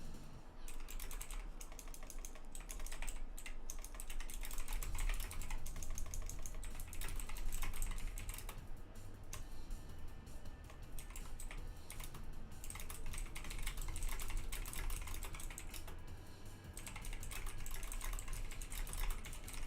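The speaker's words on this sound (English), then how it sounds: "Sorry if you guys can hear my keyboard." Fast, continuous typing on a loud mechanical computer keyboard, the clicks close and dense with only brief pauses, no voices over them.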